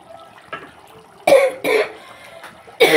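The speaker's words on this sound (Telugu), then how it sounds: "దగ్గు వచ్చేస్తుంది." A person coughing several times close by in a home kitchen, a few sharp harsh bursts separated by short pauses, with faint background sounds between them.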